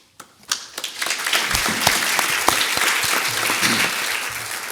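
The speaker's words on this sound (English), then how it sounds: "I love the pre-speech applause." Dense, steady audience applause fills a board meeting room before a speech, with a few sharp individual claps standing out at the start and no talking over it.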